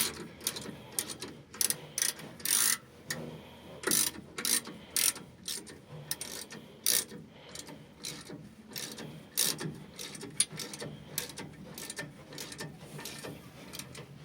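Wrench ratchets on a stuck rear brake rotor of a 2007 Ford F-150, a rapid series of close, sharp metallic clicks in bursts of varying length separated by short pauses, with no talk.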